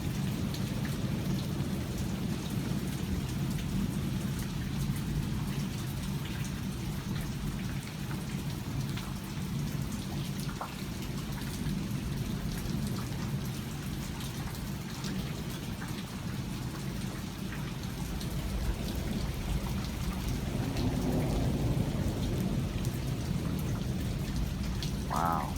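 Strong thunderstorm with heavy rain and pea-size hail, a dense, steady roar of rain on surfaces with a low rumble of thunder underneath, continuous and close.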